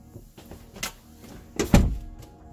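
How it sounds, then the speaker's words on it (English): A closet door swings shut with a solid thunk, a soft knock followed by one heavier close, near and fairly quiet in an indoor room. "you're gonna have to close the door"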